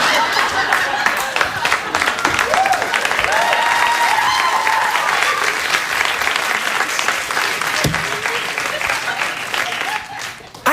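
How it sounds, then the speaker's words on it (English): Studio audience of a late-night talk show applauding loudly and steadily for about ten seconds, with a few whoops and voices mixed in, fading out at the end. "And they've just applauded that."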